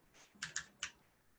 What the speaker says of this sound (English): Just use Control V on my keyboard to paste it in.